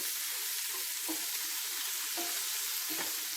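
Squeezed ivy gourd stir-frying in a pan for a thoran with peanuts, a steady bright sizzle with a few soft scraping stirs, close and without voices.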